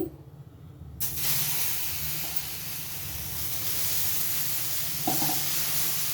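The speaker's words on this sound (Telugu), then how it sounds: "పెసరట్టు వేసుకుందామండి." Pesarattu batter hits an oiled hot pan and erupts into a steady, loud sizzle after a second of quiet, holding as a dense continuous hiss with a small clatter near the end.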